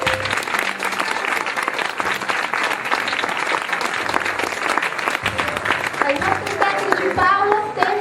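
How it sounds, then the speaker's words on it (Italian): Theatre audience applauding the prompter and technicians at the end of a stage comedy: dense, loud, continuous clapping from a full house, with voices rising over the crowd near the end. "Un applauso alla nostra suggeritrice Iside"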